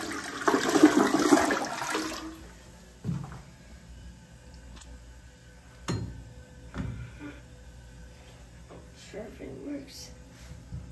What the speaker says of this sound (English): Here's our toilet.